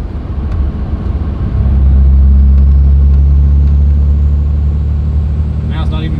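Cummins 5.9 24-valve diesel engine with a fault and a check engine light on, rising from idle to a loud, steady low rumble under held throttle, recorded close, with a short burst of talk near the end.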